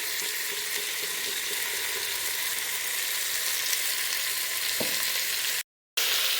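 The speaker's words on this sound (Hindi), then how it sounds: "इसको छोड़ दीजिए थोड़ा देर भूनने के लिए।" Ginger paste frying in hot oil for Kashmiri-style mutton biryani, a loud, dense, continuous sizzle close to the pan with a brief drop to silence near the end.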